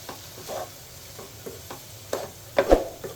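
Grated coconut frying in a pan for tomato kurma, with soft sizzling and intermittent stirring scrapes, a louder clatter near the end.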